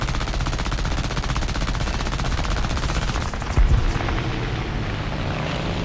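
Rapid machine gun fire from an I-15 biplane in War Thunder air arcade combat, an unbroken, dense rattling burst with an aircraft engine roar behind it, loud and close, easing slightly near the end, with no talking.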